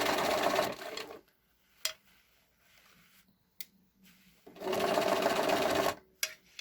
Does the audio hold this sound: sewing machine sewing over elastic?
yes